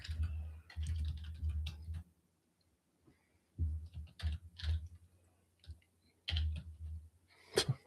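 Bursts of keyboard typing at a desk, quiet and close, with rapid clicking keystrokes in three separate runs broken by pauses, no talking.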